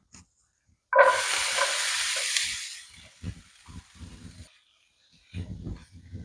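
Onions dropped into a hot pan after bacon set off a sudden loud hiss and sizzle that fades over a couple of seconds, followed by softer crackling and clinks of stirring close by.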